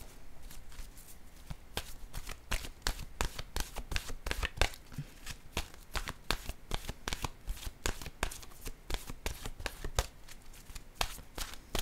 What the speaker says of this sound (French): Je vais piger maintenant une carte.